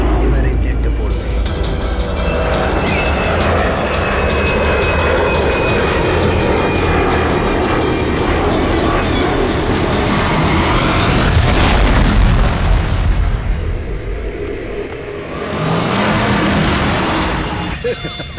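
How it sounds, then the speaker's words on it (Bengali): An airplane falls and crashes with an explosion in a dramatic scene, a dense, loud roar that persists throughout and swells to a heavy rumbling peak midway. "এবার এই প্লেনটা পড়বে"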